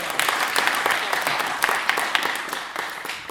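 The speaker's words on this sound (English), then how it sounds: "Everybody give a round of applause for Julian." An audience at the EvolveDigital NYC tech conference breaks into applause, a dense, steady clapping from a crowd that stays loud and even throughout.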